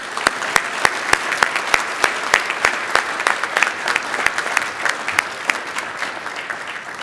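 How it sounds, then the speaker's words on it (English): Dense audience applause at the Magnificent Mile Association's 2023 annual meeting, many sharp claps in a steady, busy rhythm lasting several seconds, loud and close with no talking over it. "Big round of applause."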